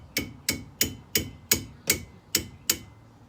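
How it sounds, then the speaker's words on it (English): A hammer taps on a stuck brake caliper in eight sharp, evenly spaced metallic strikes, close and distinct, with no talking. "Get the hammer, tap it."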